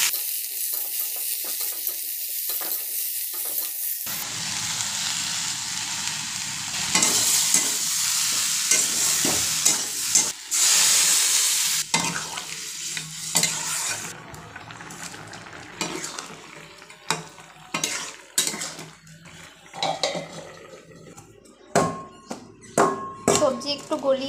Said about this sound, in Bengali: এখন দিয়ে দেবো বেগুন।